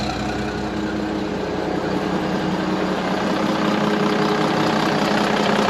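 Dump truck engine idling after an exhaust repair with new rubber bushings, a steady, loud, close rumble with an even knocking beat that holds unchanged throughout, no voices.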